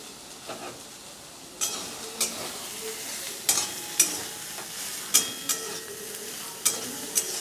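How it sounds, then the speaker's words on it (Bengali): Steady sizzling of soybean chunks frying in a pan, punctuated by sharp metallic clinks and scrapes of a spoon stirring at irregular intervals. "আমার এই সয়াবিন ভাজাটা হয়ে গেছে"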